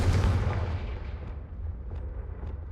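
A Confringo fire spell bursts in Hogwarts Legacy: one loud, close blast with a deep rumble that fades into a long crackling tail, with a few faint pops later on.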